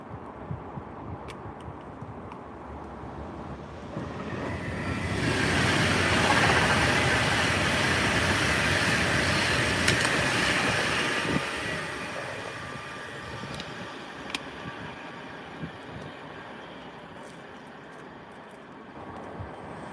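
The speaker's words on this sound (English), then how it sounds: "An Avanti West Coast Pendolino coming now." An Avanti West Coast Pendolino train approaches from a distance, swells into a broad rushing roar as it passes, then fades away, heard outdoors without talk.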